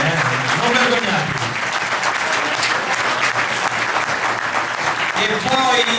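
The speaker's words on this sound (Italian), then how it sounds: "Potete applaudire a piene mani" A crowd at an athletics awards ceremony applauds warmly and continuously, with a voice speaking over the clapping at the start and again near the end.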